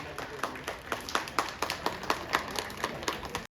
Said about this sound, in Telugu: మ్యాజిక్ షో నచ్చితే ఒక్కసారి గట్టిగా క్లాప్ కొట్టండి